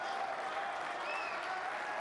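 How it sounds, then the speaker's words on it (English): Audience applause at the Saudi Arabia Snooker Masters 2024 final between Judd Trump and Mark Williams: steady, sustained clapping from a large crowd filling the hall from start to finish. "They're getting good applause here ahead of the decider"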